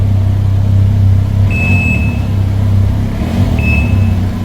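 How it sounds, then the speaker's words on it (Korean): A Can-Am Ryker Rally Edition three-wheeled motorcycle engine idles steady and loud with a deep low rumble and exhaust throb, with two brief high whines heard close by. "자 머플러 소리 한번 들어볼게요"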